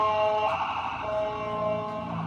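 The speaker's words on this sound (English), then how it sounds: "here comes another stupid ambulance" An ambulance siren sounding nearby, a loud sustained wailing tone with steady harmonics and a slight rise and fall in pitch, heard clearly over faint background noise.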